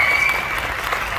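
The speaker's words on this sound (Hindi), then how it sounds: "जोरदार तालियां।" Loud, dense applause from a conference audience at a network marketing motivational speech in Goa, a continuous wash of clapping that fills the room without a break.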